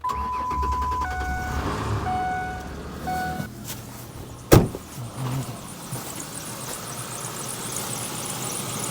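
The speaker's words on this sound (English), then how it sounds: "Now, we'll get inside and start the vehicle." A car being jump started from a portable jump pack: soft warning chimes from inside, then a sharp click as the engine cranks and catches, settling into a quiet running hum.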